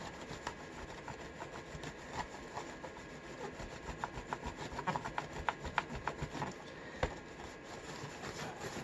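Vinegar syndrome residue is scraped off a Compaq laptop screen, a steady close rasping rub with a rough gritty texture that runs without pause and grows slightly louder toward the end, with no talking.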